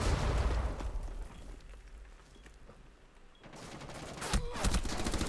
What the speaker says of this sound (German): Das ist eine neue Waffe, den Sound kenne ich noch nicht.